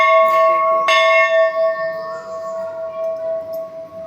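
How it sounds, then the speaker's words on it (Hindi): A temple bell rung once inside a Mahadev shrine, giving a bright metallic strike followed by a long, steady ringing tone that slowly fades, with faint voices in the background. "अभी बजाएगी घंटी"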